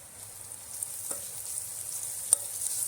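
Spices being stirred into kantoli (spiny gourd) vegetable in a pan, a quiet, continuous sizzle with a few soft scrapes of the spoon against the pan.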